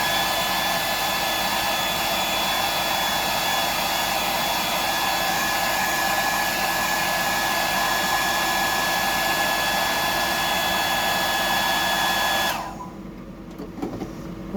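A hair dryer blows with a steady, loud whoosh and a high whine, then cuts off near the end, leaving a faint clatter.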